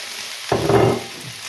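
Peppers dropped into a hot pan for a tikka stew, a sudden loud sizzle bursting up after a quiet moment, then crackling steadily and settling to a softer hiss.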